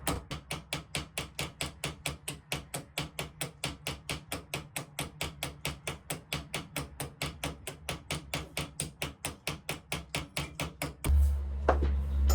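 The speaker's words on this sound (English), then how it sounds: "Let the hammer do the work." A hammer taps the head of a pin on a knife to peen it into a mushroom shape, a steady fast run of light metallic strikes repeated dozens of times, close and even, ending with a brief rustle.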